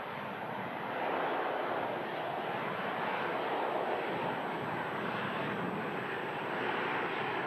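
A Ryanair passenger jet arriving from Milan at Manchester Airport produces a broad, steady engine roar that swells slightly and holds, moderately loud and somewhat distant, with no talk.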